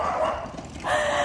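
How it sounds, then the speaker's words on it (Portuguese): Dogs bark and yip at a rural family farm in two quick bursts close to the listener, with a short gap between them. "Nem comecei, já tem um monte de cachorro gritando."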